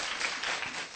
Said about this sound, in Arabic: صفقوا لها